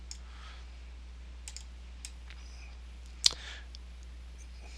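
A computer mouse clicks faintly a few times while drawing fillet corners on ground polygons in an FSX scenery editor, with one sharper, louder click standing out over a steady low hum.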